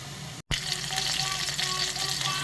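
Steady oil sizzle of ginger frying in a pan, loud and close, with a brief sharp dropout near the start before the crackling continues.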